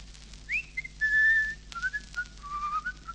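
A person whistles a short wavering tune, faint and alone, with sliding notes and brief pauses between phrases.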